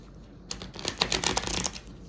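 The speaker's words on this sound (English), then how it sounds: "One more shuffle." A deck of tarot cards riffled and shuffled in a quick run of soft, papery flutters lasting under two seconds, close to the listener, with no talking.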